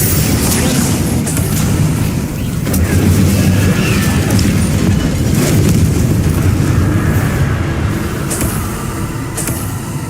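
Booming spell blasts and rumbling explosions from the fantasy video game Hogwarts Legacy, a dense, loud, continuous roar with layered impacts and crackle, no voices.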